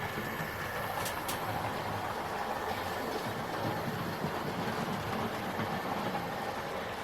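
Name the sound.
Bachmann model locomotive running on track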